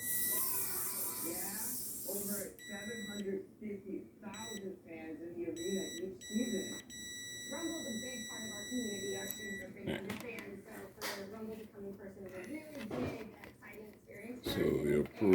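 A multimeter on continuity test while back-probing wiring during clock spring (spiral cable) replacement on a 2006 Nissan Y11 AD, giving steady high electronic beep tones in several stretches under close talking.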